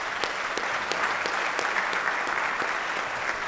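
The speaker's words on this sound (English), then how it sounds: "Why don't we get another round of applause for them?" A concert audience applauds a university concert band at a spring concert, with steady, dense clapping that holds evenly throughout and has no speech over it.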